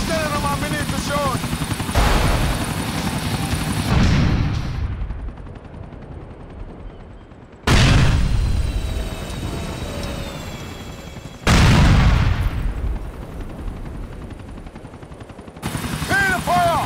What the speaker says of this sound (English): Hear the fire! Good shot, Jacob!